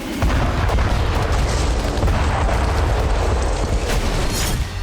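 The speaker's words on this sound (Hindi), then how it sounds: "रिपोर्ट के मुताबिक ये जेडैम बम का धमाका है।" A loud, sustained roar of a JDAM bomb blast in Ukraine, heavy rumbling and crackling throughout with no voices.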